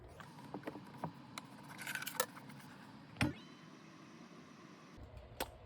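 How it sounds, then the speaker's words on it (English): A razor blade snips off a loose, hanging piece of snowboard base during a base repair: a few faint, scattered cutting clicks and scrapes against quiet background hiss. "you can use your razor blade and just snip it off"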